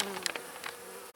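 Honey bees buzz steadily around a dying hive box being robbed by yellowjackets, a close, dense droning hum with a few brief sharper passes of wings near the microphone.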